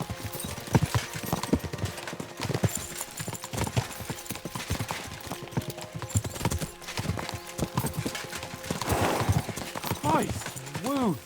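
Horse hooves clip-clop steadily in Kingdom Come: Deliverance II as horses are ridden along, with a whinny near the end and characters talking over the rhythmic hoofbeats.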